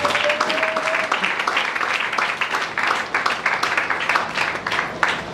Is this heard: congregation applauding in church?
yes